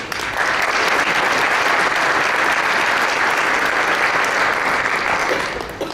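Sustained audience applause at a Chamber of Commerce legislative breakfast in Marion for the visiting delegation, a dense, steady wash of clapping from a roomful of people, holding level for several seconds before tapering slightly at the end.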